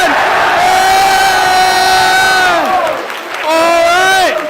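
A crowd at a party convention event shouts and whoops loudly in a long sustained roar, breaks off briefly, then surges again.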